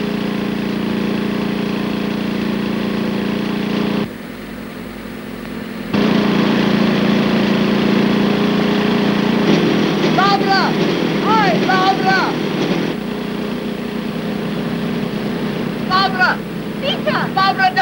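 A car engine runs with a steady low drone, dropping away briefly and then resuming, while voices talk over it.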